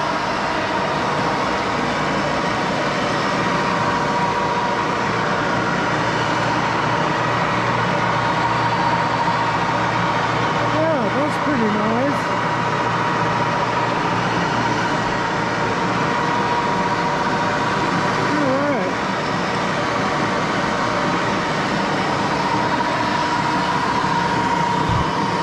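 An Axelson lathe running, a continuous loud mechanical drone with a steady hum and faint squeaks partway through, no voices.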